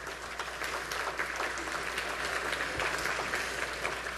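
Applause from an audience at a formal business awards event in Houston, steady and moderately loud for the full few seconds, with no talk over it.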